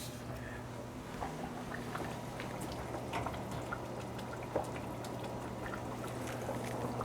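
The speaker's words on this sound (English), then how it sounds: "Okay, you can hear it boiling." Steady low bubbling and faint popping crackles of water boiling in a pot, continuous and fairly quiet throughout.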